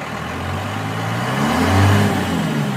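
First-generation Cummins diesel engine running close by, a steady low drone that swells gently into a mild rev near the end.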